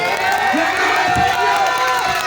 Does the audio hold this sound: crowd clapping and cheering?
yes